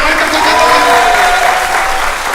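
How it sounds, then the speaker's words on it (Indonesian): Loud, steady applause from an audience fills the room, sustained clapping with some crowd noise underneath. "mau tepuk tangan yang meriah"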